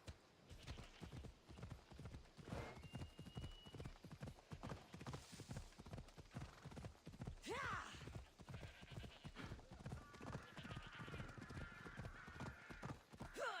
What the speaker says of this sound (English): riding a horse is still somewhat unnatural